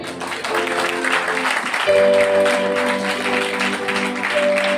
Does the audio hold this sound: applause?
yes